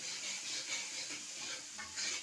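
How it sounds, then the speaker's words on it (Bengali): Chopped tomato hits a hot pan of ginger, cumin and chili for a Bengali ghugni, giving a soft, continuous sizzle and faint stirring scrapes, quiet and close with no talking. "এখন আমি টমেটোটা দিয়ে দিচ্ছি"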